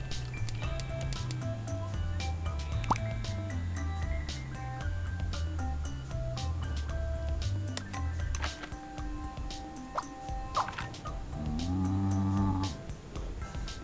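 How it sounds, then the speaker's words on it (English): Cartoonish cattle mooing from a steak being hammered in the video game Scribblenauts Unlimited, several drawn-out low moos in sequence with game music and clicks around them, then a final louder moo near the end. "Did the steak now just say moo?"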